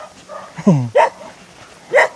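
A dog barks a few sharp times indoors, close and fairly loud, with short gaps between barks and a brief whine among them.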